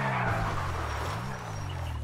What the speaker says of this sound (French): le bruit du moteur, c'est agréable